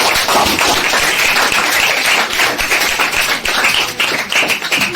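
Dense, steady clapping from an audience fills a classroom, loud and close throughout with no voices over it, thinning slightly toward the end.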